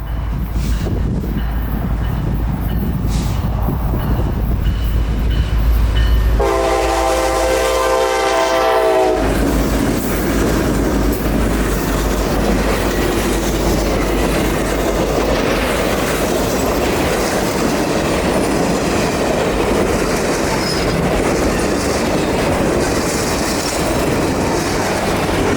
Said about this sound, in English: as the train rolled up on me at 40 miles an hour